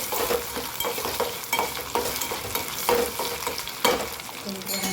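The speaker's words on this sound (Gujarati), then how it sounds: "સરસ મિક્સ કરી લઈએ" Spoon stirring a frying mixture with curry leaves in hot oil, rhythmic scraping strokes against the pan over a continuous sizzle, close and moderately loud.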